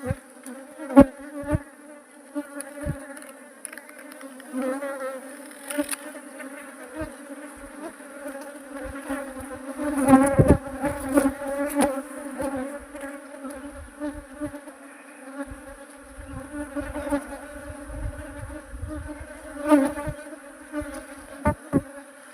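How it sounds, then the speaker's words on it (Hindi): Swarm of honeybees buzzing close by, a dense continuous drone with individual bees whizzing past, steady and fairly loud throughout, no talking. "मधुमक्खी तो उधर अंदर में बहुत है"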